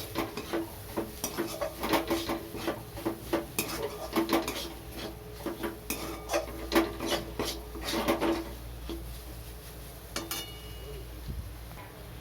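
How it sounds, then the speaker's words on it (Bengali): Spatula scraping and clinking in a metal pan as a fried egg is stirred together with spices for egg tadka, with steady rhythmic scrapes and taps close by and no talking. "এবার আমি মশলার সঙ্গে মিশিয়ে নেব।"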